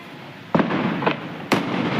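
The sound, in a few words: Diwali firecrackers bursting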